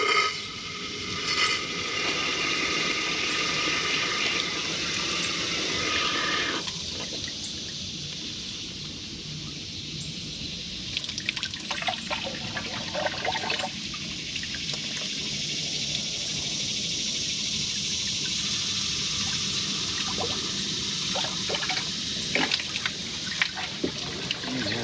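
Water flushed through the clogged passages of an outboard motor that cranks but won't fire, a long, fairly quiet trickling and gurgling flow with faint mechanical rattles and shifting surges, no voices.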